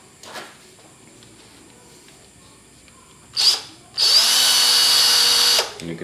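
An NRT Pro DC 340 20V cordless drill gives a short whir, then a sustained loud whine for about two seconds as its chuck is turned, with no talking.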